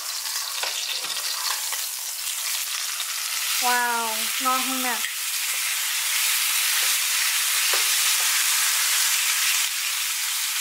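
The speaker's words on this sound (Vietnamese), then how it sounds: "Bây giờ mình chiên tiếp mặt này 3 phút." Beef slices fry in a pan for a Thai-style beef salad, giving a continuous loud sizzle that runs unbroken from start to finish. Someone briefly speaks over it partway through.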